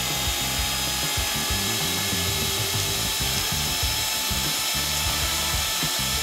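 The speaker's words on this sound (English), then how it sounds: "For that, I'll use our mixer." An electric kitchen mixer whirs steadily while blending cream cheese and condensed milk for a no-bake cheesecake, giving a continuous buzzing, rattling motor drone with a rhythmic chattering beneath it and no speech.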